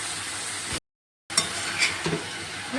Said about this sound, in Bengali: আলুর সঙ্গে মানে মশলার সঙ্গে চোরটাকে ভালো করে কষে নেব